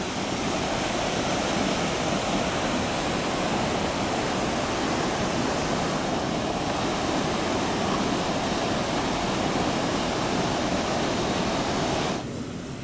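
Rushing river rapids on the Potomac at Great Falls, Maryland, a loud, steady broadband roar of churning whitewater that holds constant throughout and softens slightly at the very end.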